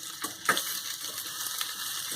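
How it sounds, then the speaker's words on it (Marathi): Onion roasts in a steel or iron kadhai with a continuous soft sizzle, broken by a few scraping, crunchy stirs, heard up close with no talking. "इथे मी हा कांदा भाजून घेते."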